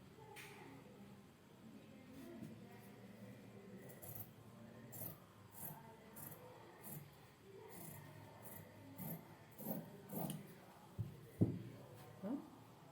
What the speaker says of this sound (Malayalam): ഇനി നമുക്ക് ഫ്രണ്ട് നെക്ക് ഒന്ന് കട്ട് ചെയ്യാം